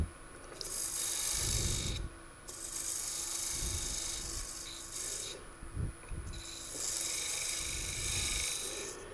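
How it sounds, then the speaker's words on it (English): Parting tool cutting into a spinning wooden lantern ornament on a lathe, a steady rasping scrape in several long bursts separated by brief pauses. "So I'll take my parting tool, and I'm going to go about, not quite a quarter of an inch"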